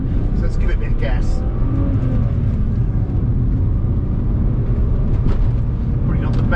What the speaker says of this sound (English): So let's give it a bit of gas.